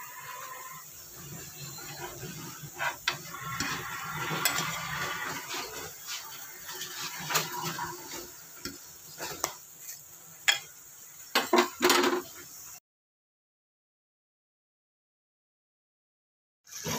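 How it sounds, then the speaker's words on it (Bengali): Stinging catfish being stirred and fried in a pan with papaya, with soft continuous sizzling and scattered sharp clinks of a utensil on the pan, close and fairly quiet, ending in silence. "এই যে দেখেন শিং মাছটা আমি কষাচ্ছি"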